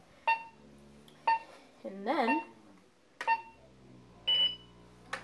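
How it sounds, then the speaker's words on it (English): A Nerf Phoenix LTX laser tag gun gives short electronic beeps at intervals, about five separate bursts, with a brief spoken phrase in the middle. "This will beep 10 times."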